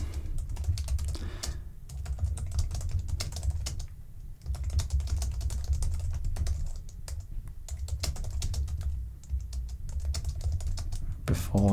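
Continuous clicking of keys on a computer keyboard runs throughout, quiet and close, with short pauses between quick bursts of keystrokes and no talk.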